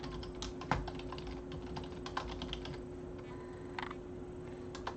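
Steady typing on a computer keyboard, close and quiet, with irregular clusters of light key taps and a few sharper strikes over a faint background hum.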